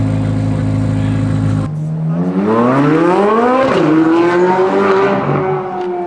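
A BMW M5 engine revs hard on a city street in Birmingham, rising sharply in pitch through the gears with a loud, close, continuous roar.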